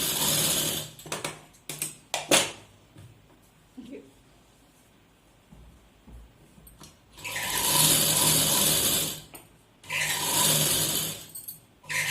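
A sewing machine stitches a padded blouse in two long, steady runs of whirring, separated by quieter handling and short clicks.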